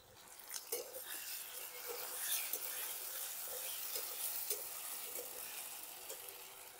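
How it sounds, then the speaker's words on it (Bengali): A ground paste of green chili, cumin and ginger fries with browned potatoes in a pan, giving a soft steady sizzle broken by light stirring scrapes, quiet and close. "এবারে দিয়ে দেবো মশলাটা। এর মধ্যে শুধু কাঁচা লঙ্কা, জিরে আর আদা বাটা আছে।"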